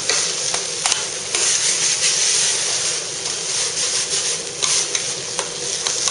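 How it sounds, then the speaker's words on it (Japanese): Monjayaki batter is stirred and scraped on a hot iron griddle in Tsukishima, Tokyo, with loud continuous sizzling and steady scraping strokes close at hand, and no voices. "はい、ここで混ぜます。"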